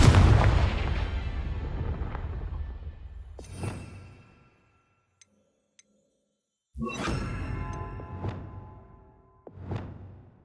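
The Confringo fire spell blasts pumpkins in Hogwarts Legacy, booming explosions that fade into rumbling debris, a near-silent pause, then further sharp blasts and a final burst.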